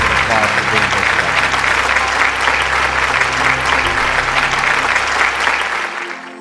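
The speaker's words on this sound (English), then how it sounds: "please join me in thanking him with a round of applause for being here today" An audience at a Q&A event with a dermatologist gives a loud, sustained round of applause that fades out near the end, with some voices murmuring beneath the clapping.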